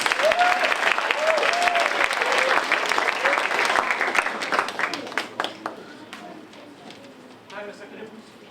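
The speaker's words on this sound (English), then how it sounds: "we give him another round, a quick round of applause" At a creative arts evening, an audience gives a quick round of applause before a performance, dense clapping with voices talking over it at first, then fading to scattered individual claps.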